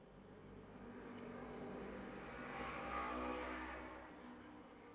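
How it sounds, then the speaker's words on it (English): Motorbikes drive past at a distance, a faint engine drone that swells to a peak near the middle and then fades away, heard alone without talking. "Motorbikes go past."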